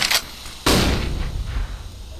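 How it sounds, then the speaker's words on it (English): A flashbang grenade bursts in Counter-Strike on the Mirage map, a sudden loud bang after a short thrown-object sound, then a decaying ringing tail, with no talking. "Throwing a flashbang."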